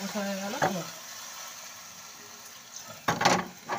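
Spices sauté in a pan with a low, steady sizzle and a few sharp stirring scrapes, while a voice talks briefly at the start.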